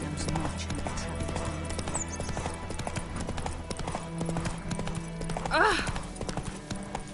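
A horse gallops with rapid, steady clip-clop hoofbeats through the whole stretch, close and continuous, with a short whinny-like call near the end and speech over part of it.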